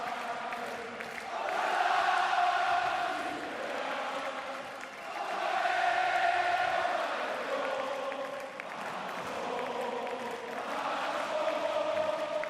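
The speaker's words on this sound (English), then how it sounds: "They're singing La Marseillaise." Large tennis crowd at Roland-Garros singing La Marseillaise in unison, a broad swelling chorus of many voices in waves, sustained and somewhat distant across the stadium.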